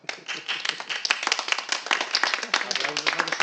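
An audience claps and applauds in a dense, steady burst of many hands, close and lively, with no talk over it.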